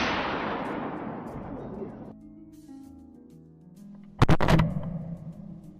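A single sharp, loud rifle shot cracks out during a wild boar hunt in farm fields, with a rumbling tail after it. Before the shot comes a stretch of hissing noise and then quiet, low tones.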